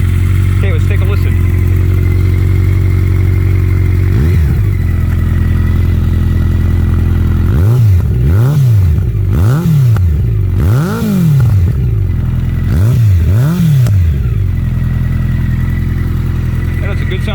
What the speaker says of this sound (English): That's a good sounding exhaust